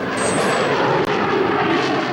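A Rafale fighter jet with two M88 engines roars overhead in a steady, loud, broadband engine wash that holds for a couple of seconds, with no talk over it.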